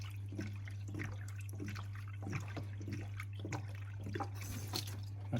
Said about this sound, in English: So we're going to top the radiator up now and see if it'll fire up.